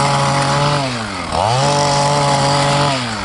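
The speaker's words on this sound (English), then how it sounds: "Get the chainsaw on it." A chainsaw runs loud and close, its buzzing pitch dipping as it bites into a cut and then climbing back to a high, steady whine.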